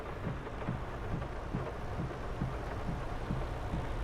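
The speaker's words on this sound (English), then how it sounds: "You know what it is some really heavy rain today." Heavy rain pours down in Farming Simulator 22, a dense continuous hiss with a low rumble underneath and faint rhythmic knocks, with no voices.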